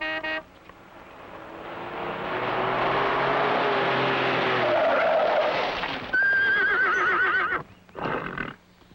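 A horse whinnies loudly and close for several seconds in a dramatic film scene about horses, its cry rising and falling before a shorter second neigh near the end.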